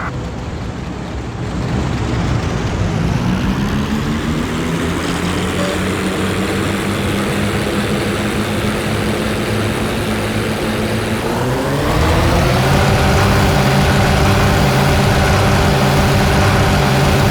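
A P-38 Lightning reconnaissance plane in Heroes of the Pacific roars through its takeoff run with a steady, loud propeller drone, its engine pitch climbing and swelling louder partway through as it gathers speed, with no talking.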